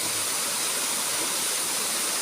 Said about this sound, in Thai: มาชมน้ำตกสวยงาม อยู่ภูเขาบ้านในหัวตำบลจันเพ็ญ